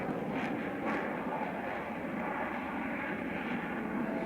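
An F-4 Phantom jet flies past with a steady, loud, broadband engine roar that holds evenly throughout, with no voices over it.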